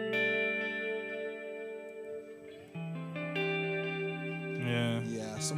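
An electric guitar plays sustained notes and chords through a delay effect, tones overlapping and repeating into a spacious wash, with a brief burst of voice near the end.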